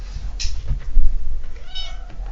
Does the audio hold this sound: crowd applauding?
no